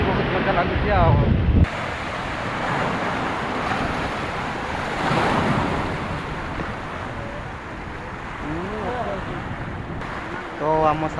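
Ocean waves breaking on a beach in Kerala, with a steady broadband wash of surf and wind noise on the microphone. Voices come and go over the water at times.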